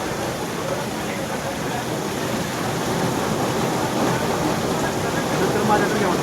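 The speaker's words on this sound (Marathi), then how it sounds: "बघितलं किती जोरात पाऊस चालू आहे" Heavy rain pours steadily in Pachora, a dense broadband hiss that holds even and close throughout, growing slightly louder toward the end.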